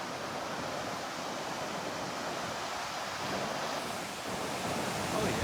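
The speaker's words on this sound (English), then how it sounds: "There's your wave." Ocean surf breaking at Cox Bay near Tofino, a continuous roaring wash of waves mixed with wind rush, steady and fairly loud with a slight swell toward the end.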